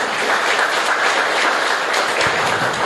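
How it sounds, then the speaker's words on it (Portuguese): A church congregation applauds together in steady, dense clapping that fills the room evenly from start to end, with no voices standing out. "Você pode aplaudir Jesus?"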